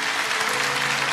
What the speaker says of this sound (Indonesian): Yang percaya kasih tepuk tangan untuk Tuhan Yesus.